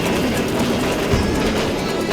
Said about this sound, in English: As the train draws close to Ballavgarh station, an overwhelming crowd pushes through the doors.